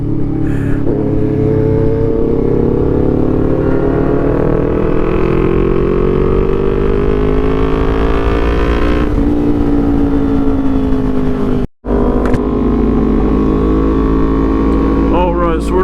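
A Suzuki GSXR750 and a Kawasaki ZX10R motorcycle roar loudly and continuously, their engines revving and climbing in pitch in long sweeps. One brief cut to near silence interrupts the sustained, close, heavy drone.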